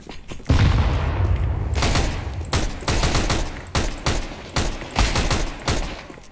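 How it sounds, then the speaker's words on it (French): Grenade blast followed by repeated bursts of gunfire in Counter-Strike 2, loud and close, with a steady rhythm of sharp volleys through the whole stretch. "I'm throwing a grenade."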